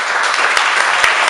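An audience at an evening event claps for the staff, a steady wash of applause with a few sharper claps standing out.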